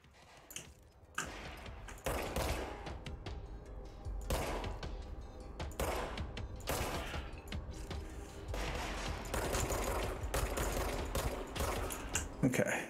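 Weapon fire in the game Control crackles in repeated bursts of sharp shots scattered across the scene, fairly quiet overall, with a voice speaking between the volleys.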